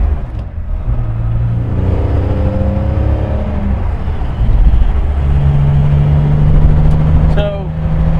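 A 1966 Aston Martin DB6 coupe in Pacific blue drives along a road, its engine whirring and revving through rising and falling tones, then settling into a steadier, slightly louder drone.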